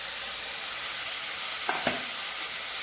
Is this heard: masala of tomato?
yes